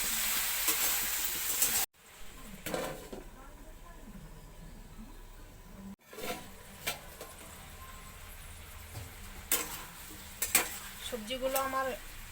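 Green peas frying in a kadai with capsicum and salt, a soft sizzle broken by scraping stir strokes and spoon clinks against the pan, with brief cuts in the sound.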